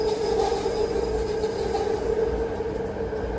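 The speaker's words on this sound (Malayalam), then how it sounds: "ഇത് ഒരു മെട്രോ, ഇതാ ഒരു മെട്രോ വരുന്നത് കാണാം." A Rapid KL metro train arriving on an elevated line in Kuala Lumpur: a continuous rolling rumble with a steady tonal whine, fairly close and loud, with no talking.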